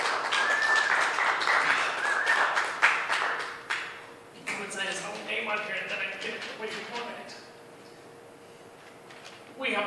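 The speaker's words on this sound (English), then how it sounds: "big round of applause for Furious Reptile!" Audience at a Camp Bar open mic night clapping for a performer, a burst of dense applause that thins and fades over several seconds, with a speaking voice over it.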